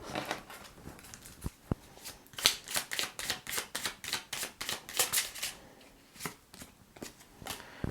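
Tarot cards riffled and shuffled by hand in a string of quick, crisp bursts, close and fairly loud, with short pauses between shuffles and no talking.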